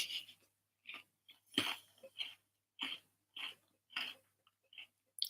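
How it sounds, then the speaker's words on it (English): A biscuit being munched close up, with quiet, irregular bursts of crunching and chewing separated by short silences, and no talk. "Live biscuit munching."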